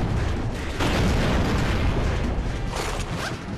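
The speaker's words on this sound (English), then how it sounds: "Oh, those grenades!" Repeated grenade blasts boom in the 007 Agent Under Fire video game, dense rumbling explosions with bursts and debris crackle, loud and continuous throughout with no talk.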